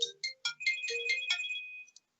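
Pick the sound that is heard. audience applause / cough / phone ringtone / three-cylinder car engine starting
phone ringtone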